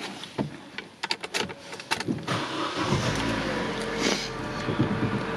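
A 1.4 petrol Vauxhall Corsa SXi starts up, with a few clicks and clunks of the ignition before the engine catches and settles into a steady, close idle.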